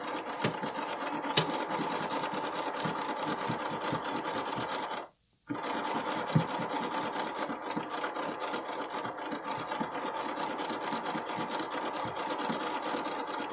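A sewing machine stitches a bralette in a steady, close, rapid mechanical whir with a fine rasping texture, pausing briefly midway before running on evenly.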